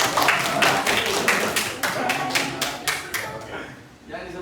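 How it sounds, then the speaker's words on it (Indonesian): Applause from a college audience, a dozen or so distinct sharp claps at a fairly steady beat that thin out and fade toward the end, with a murmur of voices beneath. "Tepuk tangan untuk dia."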